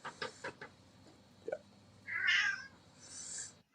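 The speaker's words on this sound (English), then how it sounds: "Shut up, cat." A house cat meows several times nearby, short calls followed by a longer drawn-out meow and a final higher cry, fairly quiet against a low background hum.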